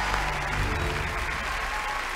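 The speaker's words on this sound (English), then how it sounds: "You're going to get a round of applause." Steady applause from the audience at a Britain's Got Talent 2020 show during a magic and science act, a thick even wash of clapping with no pauses.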